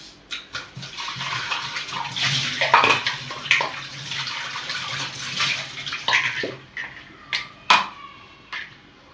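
Green chillies rinsed clean under running water in a kitchen, with steady splashing and trickling broken by several sharp clinks and handling knocks near the end; no talking.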